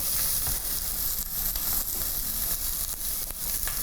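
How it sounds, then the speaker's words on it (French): Onion and garlic fry in a hot pan with a steady, close, hissing sizzle that crackles throughout, with no talking. "dans la même poêle, je vais rajouter l'oignon et l'ail"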